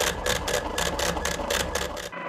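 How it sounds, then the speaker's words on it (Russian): A Braille printer embosses a page, a loud, steady rapid clatter of repeated mechanical strikes about five per second, close by, stopping abruptly at the end. "единственный в городе принтер, печатающий шрифт Брайля"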